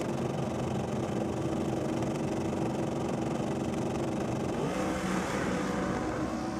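Turbocharged nitro drag racing engines rumble and idle loudly at a drag strip, a dense continuous roar with a rising rev near the end, heard from a moderate distance without talk.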